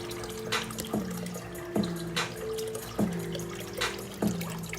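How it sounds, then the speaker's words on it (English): Water from a pump runs steadily out of a hose into a backyard fish pond, splashing and trickling, with a low motor hum and a few periodic clunks in the background. "And there's the water coming out."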